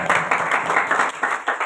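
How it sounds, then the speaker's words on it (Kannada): Standing applause fills a church during a pastor's service, dense steady clapping from a congregation with rhythmic swells, close and loud throughout. "ನಿಂತ ಚಪ್ಪಾಳೆ"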